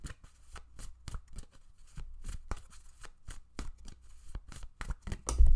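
Tarot cards being shuffled by hand in a quiet room, a steady run of crisp riffling bursts about every half second, close and fairly soft, with no voices.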